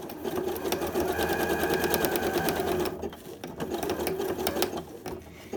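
A sewing machine runs a zigzag stitch along the edge of elastic, its fast mechanical chatter steady and close for about three seconds, then dipping briefly before continuing at a similar pace.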